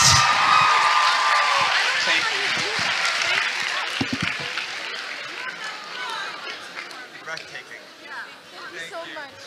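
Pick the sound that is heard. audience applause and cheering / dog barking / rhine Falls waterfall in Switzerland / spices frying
audience applause and cheering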